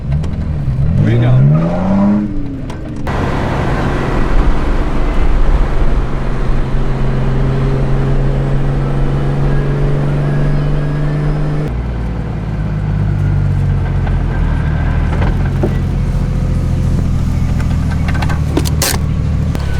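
A car driving on a road, its engine droning steadily and loud throughout with shifts in pitch as it accelerates and changes gear, heard from inside with wind and road noise.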